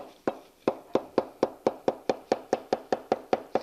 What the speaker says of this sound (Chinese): 豆腐要用剁刀法来切。